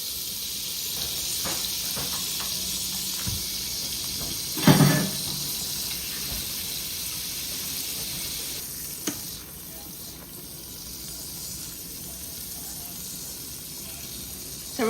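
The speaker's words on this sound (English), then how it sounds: "So we're gonna let the butter melt to the pot" A stick of butter melts in a pot over a low stove flame, giving a steady soft hiss and gentle sizzle with a brief clatter midway, no one talking.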